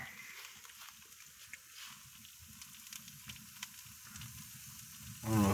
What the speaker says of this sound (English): I don't know if y'all can hear that sizzle.